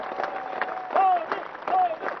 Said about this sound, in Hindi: शांति के लिए, अहिंसा के लिए ताली बजाइए, शांति के लिए ताली बजाइए।